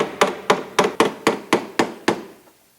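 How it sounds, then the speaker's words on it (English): Nine sharp hammer blows strike a flange while a condensate pump is being replaced, landing at an even, brisk rhythm, close and loud, with no talking, the last strike fading to quiet. "You can also use a hammer to get it closer to the condensate pump as well."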